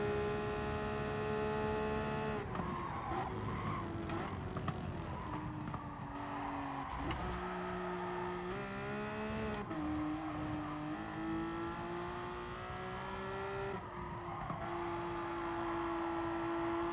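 A car in Gran Turismo Sport, tyres worn out, drifts round a track with a sustained engine drone and tonal tyre squeal that shifts up and down in pitch, steady and mid-level throughout with no talk.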